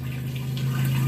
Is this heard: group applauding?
no